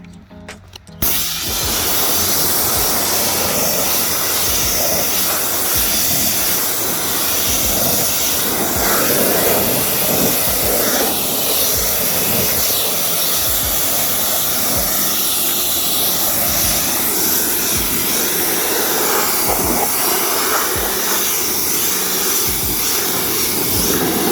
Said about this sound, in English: grab my pressure washer here